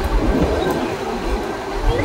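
A train on the Ooty line rolls across a dam over a river, giving a steady, close rumble of wheels and carriages with low clatter throughout and no talking.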